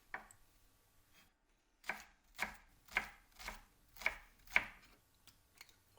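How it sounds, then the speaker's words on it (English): A knife chopping onions on a cutting board, about seven distinct close chops at a slow, uneven rhythm, crisp and fairly quiet, with no other sound between strokes. "Peel and chop the onions."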